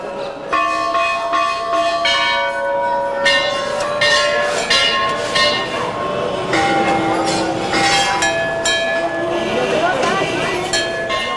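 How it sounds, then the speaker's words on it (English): Temple bells in Varanasi on the Ganges clang and ring repeatedly in overlapping strikes, their tones lingering, with a steady murmur of spoken prayers underneath. "Clanging bells and spoken prayers."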